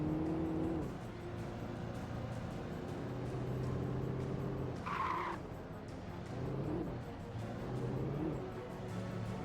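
Car engine driving steadily in the video game Alan Wake, a continuous mid-loud drone with a brief tire-skid squeal partway through, no talk.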